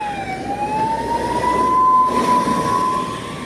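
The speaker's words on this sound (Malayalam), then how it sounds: "ഇവിടെ കണ്ടിന്യൂസ് 5 മിനിറ്റ് ഇടവിട്ട് ആംബുലൻസ് പൊക്കോണ്ടിരിക്കും" An ambulance siren wails steadily as it passes, rising in loudness toward the middle and fading slightly at the end, over a busy traffic rumble.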